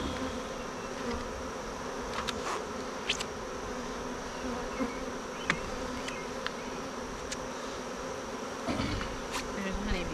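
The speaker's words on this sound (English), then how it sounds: "There's honeybees on" Honeybees buzzing around an open beehive on a homestead, a steady dense hum close by with occasional louder passes and light clicks.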